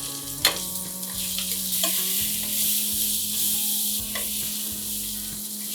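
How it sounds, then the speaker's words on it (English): Turmeric, red chilli powder and garam masala sizzle in a pan for mushroom curry while a utensil stirs and scrapes, with a few sharp clicks against the pan over a steady frying hiss and no talking. "turmeric powder, red chilli powder, garam masala, and we give a quick stir."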